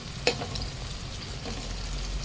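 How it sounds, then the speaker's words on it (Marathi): Green chillies and curry leaves fry in oil over a low flame while making Nashik-style roasted poha chivda, giving a steady soft sizzle with one sharp crackle near the start. "मिरच्या आणि कढीपत्ता टाकताना गॅस कमी ठेवायचा कमी गॅसवर तळून घेऊ आपण"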